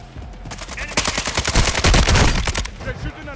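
Gunfire in Call of Duty: Modern Warfare II, a loud burst of rapid automatic shots and clattering bursts that builds and then fades, with faint game sounds underneath.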